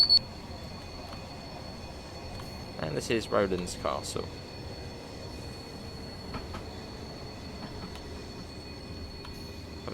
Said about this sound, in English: Bit of flange sound around here.